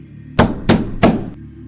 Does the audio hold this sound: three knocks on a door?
yes